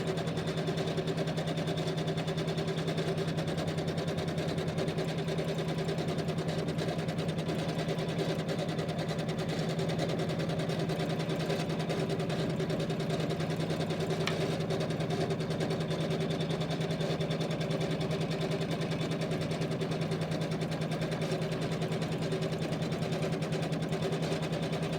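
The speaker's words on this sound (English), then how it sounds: "it's going to do the double line of stitching over it to anchor it in place" An embroidery machine stitches a double-line tack-down on a quilt block, producing a steady, even mechanical hum and rapid needle chatter that runs unbroken for the whole stretch, with no voices.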